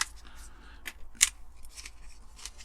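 Scissors pressing down on a part of a Corgi 448 police mini van model during restoration, a few faint clicks and scrapes with one sharp close snap midway.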